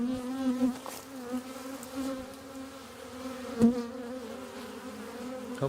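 Honey bees buzz from a shipped bee package during installation into a hive, a steady, close, droning hum that swells and dips in intensity.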